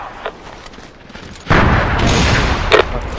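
Gunfire in SOCOM: U.S. Navy SEALs Confrontation, a quiet stretch with faint sounds, then a sudden loud burst of rapid shots and booms continuing to the end.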